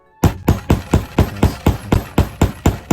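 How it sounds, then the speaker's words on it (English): About a dozen sharp, evenly spaced hammer strikes set metal snap buttons into a cosplay jumpsuit, each a close, loud knock with a brief ring, repeating at a quick, steady pace. "I had to literally hammer them in together"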